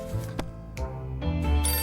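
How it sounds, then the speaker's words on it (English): A telephone rings in the survival game 60 Seconds! Reatomized, a bright, electronic bell trilling in short repeated bursts over a soft musical background, clear and close, with no voices. "Phone's ringing?"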